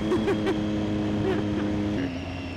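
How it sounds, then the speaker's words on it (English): A motorcycle engine held at high revs, a steady strained whine with a few quick throttle blips, heard from on the bike while riding in the wrong gear at a track. "this bike revs so high"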